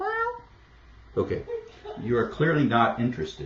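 A pet cat meows several times, loud and close at the start, before someone speaks over light background noise.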